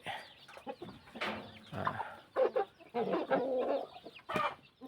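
A Vietnamese jungle fowl breeding rooster clucks nearby in a series of short, uneven bursts, with several throaty calls spaced across a few seconds.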